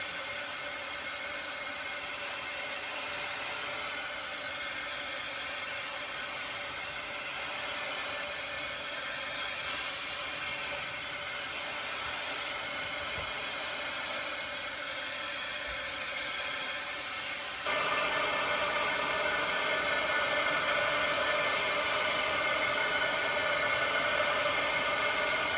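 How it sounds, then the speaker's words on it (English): A heat gun blows a constant, close airy roar over freshly painted craft work, running steadily without breaks and getting slightly louder partway through, no voices. "I'm gonna take my heat gun and I'm gonna go ahead and get this dry"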